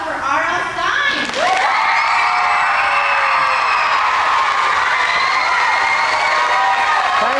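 Audience cheering, whooping and applauding for author R.L. Stine at a live Goosebumps podcast event, a loud sustained roar of crowd noise with shouts rising over steady clapping.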